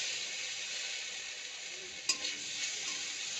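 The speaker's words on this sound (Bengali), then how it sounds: "ডালিয়াটা হালকা ভেজে নেব" Broken wheat (dalia) lightly frying in a pan gives a steady, close sizzle with a brief scrape of stirring partway through, and no voices.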